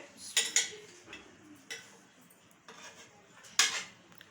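Chicken dum pukht dished out of a pressure cooker with serving utensils, giving quiet scattered metallic clinks and scrapes against the pot, with a louder clatter near the end.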